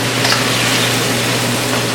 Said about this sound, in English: Let that keep going on high heat like that. Just gonna cook those noodles on down.